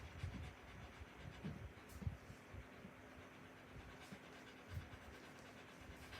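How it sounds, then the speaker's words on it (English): Cleo the dog pants faintly in the background, a soft rhythmic huffing under a low steady hum, with no talk. "My dog Cleo is making noise in the background."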